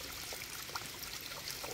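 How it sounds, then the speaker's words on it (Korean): Water trickling and flowing through a mountain valley stream on Inwangsan after a few days of rain, a faint, steady babbling with no voices. "시원한 계곡의 물소리를 전해드립니다."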